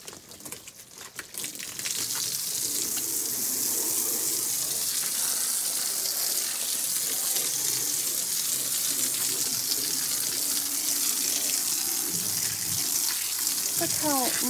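Water pours steadily into a container, a continuous rushing splash that starts after a brief quiet moment and stays loud and close.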